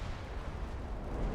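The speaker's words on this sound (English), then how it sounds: "Heard the fiery explosion sound and thought maybe a magazine exploded." A battleship goes up in a fiery explosion in the naval game Ultimate Admiral: Dreadnoughts, a steady, dense rumbling blast that fills the whole moment with heavy low-end roar and no voices.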